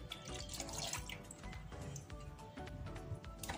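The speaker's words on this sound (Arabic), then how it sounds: "فغادي نوضع الحليب هو الاول" Milk pours into a bowl in a soft, continuous liquid trickle, quiet and close, with faint splashing and no talking.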